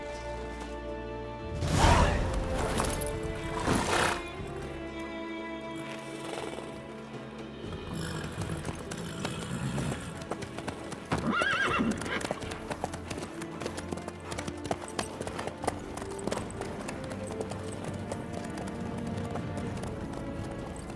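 Horse hooves galloping steadily in The Witcher 3, a rolling clip-clop under a continuous game soundscape of music and ambience for about twenty seconds.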